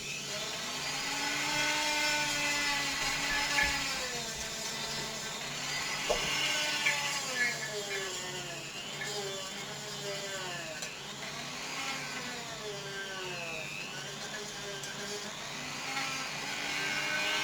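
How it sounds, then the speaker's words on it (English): A Dremel rotary tool sands a 3D print, giving a steady high whine for about seventeen seconds whose pitch rises and dips as the bit is pressed against the plastic. "So anyway, going to sand it up for just a little bit."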